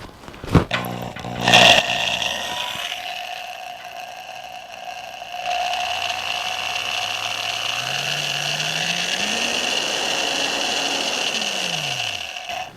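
A low-RPM variable-speed electric drill with a screw-in top handle runs with a rough, gutsy motor whine, starting after a few clicks and knocks, holding steady, then its pitch rises and falls as the speed is varied, close and loud.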